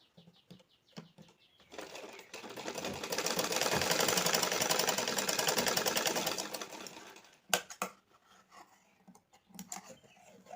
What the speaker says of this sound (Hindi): उसके बाद 2 पॉइंट की दूरी पर सिलाई मार देंगे।